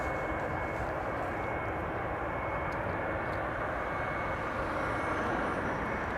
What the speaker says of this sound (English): KLM flight 982 arriving from London City